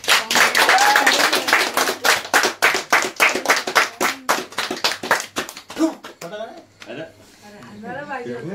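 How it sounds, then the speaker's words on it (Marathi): Rhythmic hand clapping at a family birthday celebration, with a rapid steady beat that slows and fades out, while voices talk and sing over it near the end. "टाळ्या."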